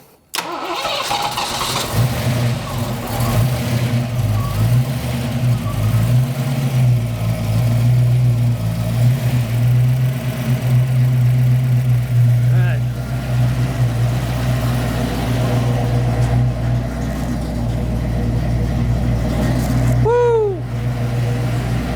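A Foxbody Mustang engine fitted with GT40 heads and a B cam starts up and settles into a loud, lumpy idle that rumbles steadily and close for the whole stretch.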